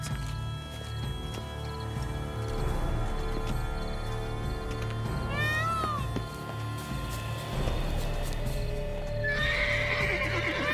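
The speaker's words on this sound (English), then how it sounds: "It's Victor, Countess Noturna's steed." A horse in The Witcher 3's Blood and Wine expansion, set in Toussaint, gives a loud, close whinny midway while hooves clop and the animal shuffles throughout, with a brighter rustle near the end.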